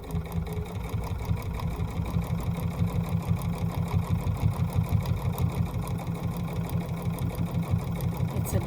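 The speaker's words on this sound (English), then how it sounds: "all I'm doing is just sewing around" A domestic sewing machine stitches steadily around the edge of a quilt-as-you-go quilt with the presser foot set loosely, a fast even mechanical chatter running throughout at close range with no talking.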